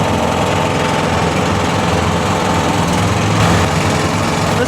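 A tracked mud buggy's small engine drones steadily and loudly while the machine drives along, a constant buzzing hum close by with no break.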